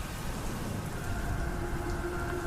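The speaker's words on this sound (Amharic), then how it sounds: "የዛሬው ዝናብ ደግሞ ሌላ ነው" Steady rain falls heavily and continuously, a dense close wash of drops on surfaces with no voices.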